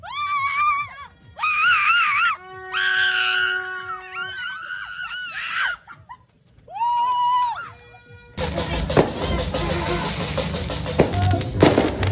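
People screaming and shouting in celebration at midnight on New Year's, loud high-pitched yells in bursts with short gaps, then a dense crackling roar of firecrackers and fireworks taking over for the last few seconds.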